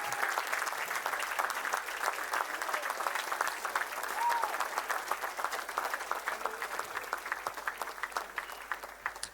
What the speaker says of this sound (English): can we encourage him and the team with a round of applause, maybe even a standing ovation